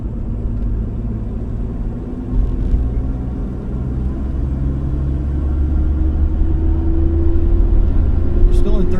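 A 1967 Plymouth Valiant 100 with a three-on-the-tree manual gearbox pulls along in third gear, its engine a steady low rumble that slowly rises in pitch and loudness as it climbs out of a dip.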